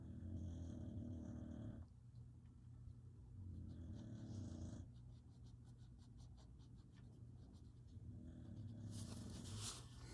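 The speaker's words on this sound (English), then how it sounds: "She's snoring really loudly, for those of you who can't hear her." A pet dog snores loudly and close by in slow, rhythmic, rumbling breaths, with pen scratching on paper during a Zentangle drawing session.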